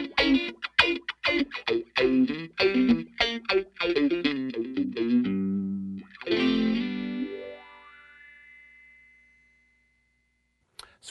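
Electric guitar through a Q-Tron Plus envelope filter set to inverted high-pass mode, a run of quick picked notes with sweeping filtered attacks, then a sustained note with a falling sweep that fades to silence.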